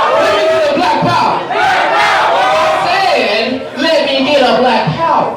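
At an awards ball, a large crowd loudly and repeatedly chants a two-word rallying shout in unison, dense and energetic with brief dips between calls.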